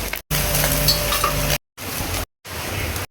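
Small fish frying in a pan make a loud, close sizzle with faint clinks in three bursts broken by short silences.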